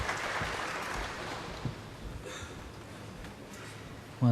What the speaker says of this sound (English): the crowd sort of starting to make a bit more noise, aren't they?